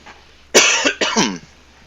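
Two close, loud coughs in quick succession during a Farming Simulator 17 multiplayer session, over quiet background hum.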